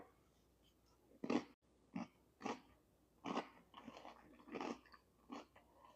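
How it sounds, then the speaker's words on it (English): Crunchy bites into a pita cracker topped with baba ganoush and black pepper sea salt plant-based jerky, followed by close, moist chewing in several bursts, with no talking. "The baba ganoush, pita cracker, and black pepper sea salt jerky, all in one beautiful bite."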